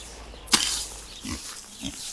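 A pig grunts up close, with a sharp squeal followed by a couple of low grunts, while weeds pulled from a village vegetable garden are thrown to it over a fence.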